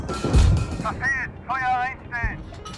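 An East German tank's cannon fires in the PC tank game Gunner HEAT PC, two deep, booming thumps heard close amid the vehicle's background rumble, with someone talking between and over the shots.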